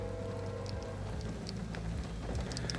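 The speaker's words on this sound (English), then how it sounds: "It's really pissing down rain," Heavy rain pours down steadily at a trackside railfanning spot at night, a dense, continuous hiss of drops drumming on surfaces with a low rumble beneath and no voices.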